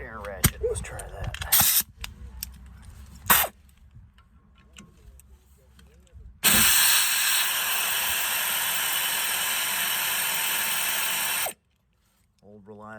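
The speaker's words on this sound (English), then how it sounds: "12mm on the air ratchet." An Ingersoll Rand air ratchet fitted with a 12mm socket, used on a 2004 Honda J35A 3.5L engine, gives a few clicks and knocks, then a loud, steady pneumatic whir for about five seconds that stops abruptly.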